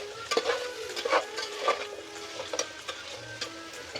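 Carrot and potato pieces frying in oil with coriander for aloo biryani, stirred with a spoon: a soft steady sizzle punctuated by irregular clinks and scrapes against the pan, fairly close, with no voices.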